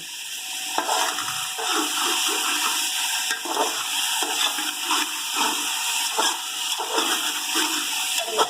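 A steady, hissing sizzle of peas frying in a hot pan, continuous throughout with faint scraping and crackling spots and no voices.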